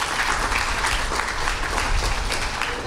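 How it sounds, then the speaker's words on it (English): A crowd applauds young Belizean football players, producing a continuous, loud wash of clapping that holds steady throughout with no voices on top. "Let's give them a round of applause"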